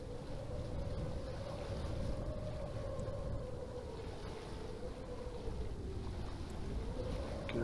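Strong wind rushes steadily in the Sailaway sailing simulator game, a continuous low roar with a faint tonal whistle from the rigging, no speech.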